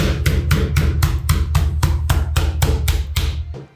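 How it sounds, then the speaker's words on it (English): Hammer pounding chicken through cling wrap for schnitzel, giving about a dozen evenly spaced, sharp thuds at a steady rhythm, close and loud over a low background hum, with no speech. "we have a hammer and we have some cling wrap"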